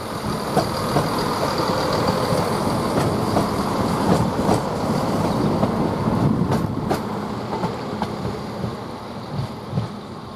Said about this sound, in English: Now we've got East Midlands Railway now from Nottingham to Skegness, departing here at 13:28